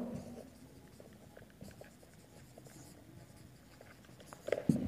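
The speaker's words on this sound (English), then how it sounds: "Otherwise, I will write here." Chalk or marker writing on a board during a seventh-grade science lesson on electricity: quiet, irregular tapping and scratching strokes over a soft room background, ending in a brief louder clatter.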